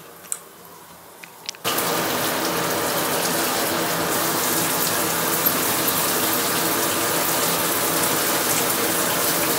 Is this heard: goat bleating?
no